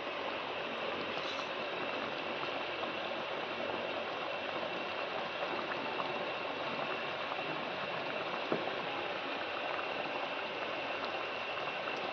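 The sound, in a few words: liquid boiling in a pot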